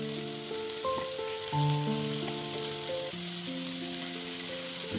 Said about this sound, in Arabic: هنقلبها شويه وبعد كده ننزل الفلفل.